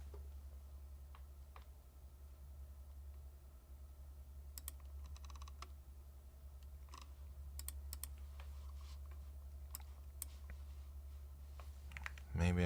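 Sparse clicks and taps of typing on a mechanical keyboard, irregular and faint, over a steady low electrical hum, ending with a louder thump.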